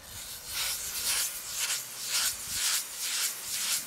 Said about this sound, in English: Just in a simple figure-8 motion like this, and you can feel when that grit has taken those burnished surfaces off of the stone.